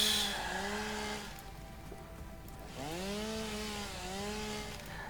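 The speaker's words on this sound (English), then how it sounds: "I'll chainsaw out to deal with this foliage" Chainsaw cutting through foliage in the factory-building video game Satisfactory, engine whine rising and falling in repeated revving sweeps, loud and close, with no talking.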